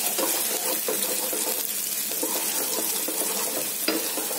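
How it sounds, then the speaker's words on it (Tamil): Small onions sauté in hot oil for a goat brain fry, giving a steady, even sizzle with soft stirring scrapes. "நல்லா வதக்கலாம்"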